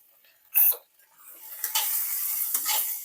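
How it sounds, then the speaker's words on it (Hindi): Chillies fry in a pan: a short clatter as they go in, a brief pause, then a rising hiss of sizzling oil marked by a couple of scraping stirs. "थोड़ी देर इसको अच्छी तरह से भूनती हूँ, फ्राई करती हूँ इसको अच्छी तरह से।"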